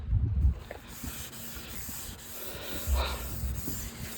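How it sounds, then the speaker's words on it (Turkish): A car roof is dry sanded by hand before repainting. Abrasive strokes rub back and forth in a rough, uneven rhythm, close up, with a couple of louder bursts. "Başta böyle bir kuru yapıyoruz. Sonra da sulu zımpara geçeceğim üstünden."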